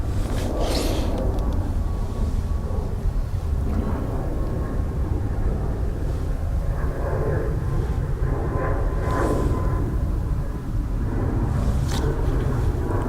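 An airliner arriving from Berlin rolls past at Dublin Airport, its engine roar loud and steady throughout with a constant low rumble, while a voice speaks briefly over it.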